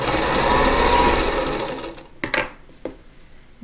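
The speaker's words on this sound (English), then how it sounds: "sew these three together" A sewing machine stitches quilt sampler pieces together in a steady, close whir for about two seconds, then slows and stops, leaving a few soft clicks and handling sounds.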